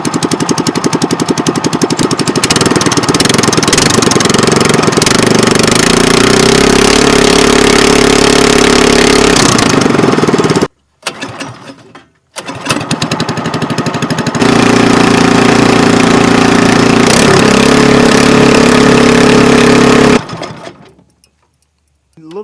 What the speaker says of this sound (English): let me show you how loud this thing is with a straight pipe with no muffler